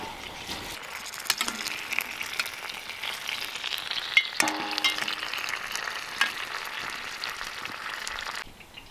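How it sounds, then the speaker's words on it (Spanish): Meat sizzles as it browns in hot lard in a clay cazuela, steady frying hiss with occasional stirring scrapes and clinks, close and fairly quiet, ending abruptly. "Ya puse acá la cazuela para dorar la carne."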